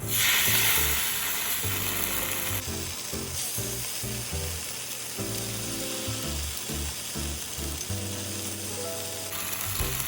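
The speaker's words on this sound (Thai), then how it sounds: "พอกระทะร้อนนะคะ เราก็จะเอาไก่ที่เราหมัก ด้วยซอสแกงเขียวหวานนะคะ ลงไปย่างเลยค่ะ" Steady, loud sizzling of chicken marinated in green curry sauce searing in a hot pan, with broadband hiss and scattered clinks and scrapes of a utensil throughout.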